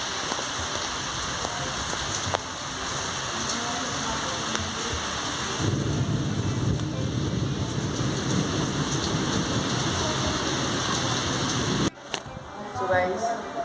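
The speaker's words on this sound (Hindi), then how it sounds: "देखो गाइस कैसे बिजली तड़क रही है अच्छे से।" Heavy rain pours steadily and close by through a thunderstorm, with a dense wash of drops on surfaces and a brief loud crack near the end as the downpour thins.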